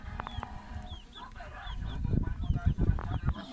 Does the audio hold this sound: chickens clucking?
yes